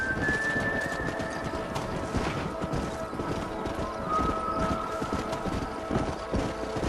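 Steady, busy clip-clop of horse hooves on open ground while breaking in horses in Red Dead Redemption, continuous throughout, mixed with game ambience and a brief whinny-like tone.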